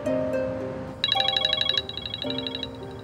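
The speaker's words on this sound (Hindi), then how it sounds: "ये तो किसी के फोन बजने की आवाज आ रही है।" A phone ringtone plays a repeating bright electronic melody, fairly close and clear, with the tune cycling several times over a steady background.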